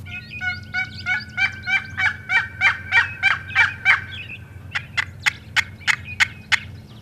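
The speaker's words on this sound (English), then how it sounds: "In the hunting category, springtime means turkeys." A wild turkey gobbles repeatedly in spring in quick rhythmic bursts, loud and fairly close, followed by a second series of sharper, rapid calls over a low steady rumble.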